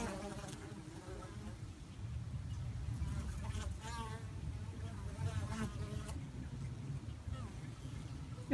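Continuous low buzzing of numerous honeybee drones flying home to the hive, steady and fairly close, with some faint background rumble throughout.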